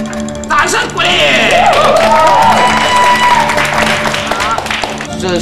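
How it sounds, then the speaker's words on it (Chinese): Studio audience in a television variety comedy sketch breaks into sustained applause and cheering, a dense clapping wash with whoops that runs for several seconds under voices and background music. "掌声鼓励"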